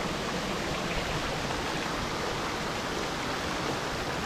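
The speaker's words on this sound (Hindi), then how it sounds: "ये देखिए कितना सुंदर वाटरफॉल हो रहा है।" Steady, dense rush of falling water, constant and fairly loud with no breaks, like a waterfall heard up close, in a Himachal Pradesh village.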